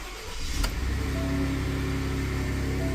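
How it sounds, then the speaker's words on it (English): A Ford F-150 truck with a 6R80 transmission cranks and fires up, a sharp starter burst quickly settling into a steady, close engine rumble that holds without any talking. "I'm gonna start the truck up here"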